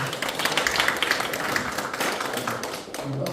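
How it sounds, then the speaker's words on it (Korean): A congregation at a church prayer gathering of Korean artists gives a round of applause, with a few seconds of uneven, crackling hand claps at moderate volume that ease off slightly toward the end. "박수 한번."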